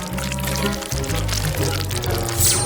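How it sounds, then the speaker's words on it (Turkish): Black food-colored sugar liquid for a homemade lollipop is poured into a glass, a steady close pour running throughout under background music. "Bu sıvıyı bardağa dökeceğim."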